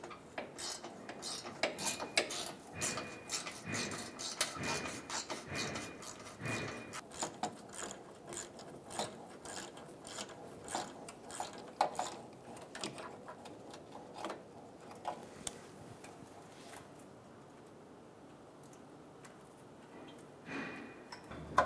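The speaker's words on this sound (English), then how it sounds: "Using a 10 millimeter socket, we're going to remove the two bolts on the bottom of the fan assembly." Ratcheting 10 millimeter socket wrench backing out the two lower bolts of the condenser cooling fan assembly on a 2003-2008 Honda Pilot, giving repeated close metallic clicks and clanks in bursts that thin out near the end.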